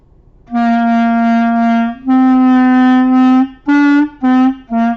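A clarinet plays a short run of sustained notes without tonguing, each one slurring into the next without crisp separation, close and clear.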